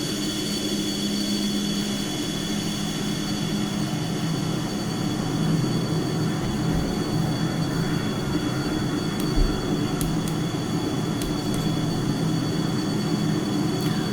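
A JF-17 jet taxis and turns on the ground in the DCS flight simulator. The engine drones with a steady whine and low rumble throughout, and a few faint clicks sound near the end.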